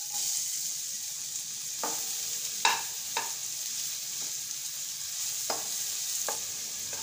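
Finely chopped onion frying in a spoonful of hot oil in a kadhai makes a constant soft hiss, broken by a few sharp scrapes and taps of stirring, close-up with no talk.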